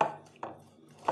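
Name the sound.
cutting lemons for fruit juice concentrate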